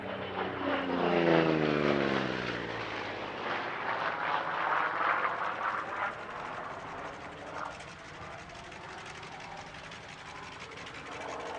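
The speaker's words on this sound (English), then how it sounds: "This is the only F4U-1D Corsair flying anywhere in the world." An F4U-1D Corsair warbird propeller fighter roars past loudly during an air show display, its engine note sweeping downward as it passes near, then fading into a sustained distant drone.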